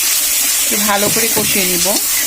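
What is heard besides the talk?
water poured into a pan of turmeric and salt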